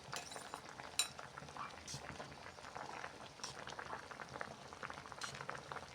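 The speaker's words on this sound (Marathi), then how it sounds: "तुम्ही बघू शकता खूप छानरित्या आपले टोमॅटो उकळले आहेत" Tomatoes boiling in a pot of hot water for tomato soup: a soft, steady bubbling hiss that runs throughout, with a few light clinks of a utensil against the pot.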